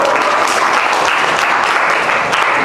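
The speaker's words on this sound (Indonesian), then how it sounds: "Tepuk tangan dulu." A school class applauds together in a classroom, a steady dense clapping that holds at an even, fairly loud level from start to finish with no pause.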